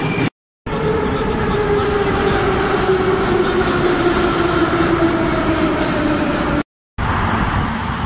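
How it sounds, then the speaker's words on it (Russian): Loud continuous rumble of a Moscow metro train in motion toward Paveletskaya, with a rising whine from the wheels and motors, briefly cut by two dropouts. "еду на метро Павелецкая"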